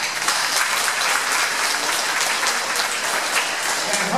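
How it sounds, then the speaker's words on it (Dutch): An audience applauds for Jolanda at a children's afternoon event, steady continuous clapping of many hands at moderate volume with no voices over it. "ik vind dat ook wel weer een applaus waard."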